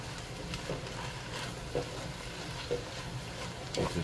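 Beef, green peppers and onions cook in a pan for sloppy joes, giving a steady low sizzle with occasional soft scrapes of stirring.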